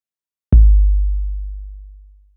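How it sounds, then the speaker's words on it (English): A single original 1980 Roland TR-808 bass drum hit, a deep sine-like boom with a quick downward pitch sweep at the attack, then a long smooth decay of roughly two seconds, alone and loud. "Here is the original TR-808 sample from 1980"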